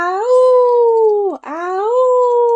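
Sustained wolf pack howls echoing across cliffs, loud and close, with a brief break in the middle where the pitch dips and rises again into a second long wavering howl.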